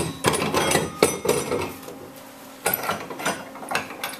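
A metal log clamp is tightened down onto a log, giving close-up clanks and short ratcheting bursts separated by brief pauses.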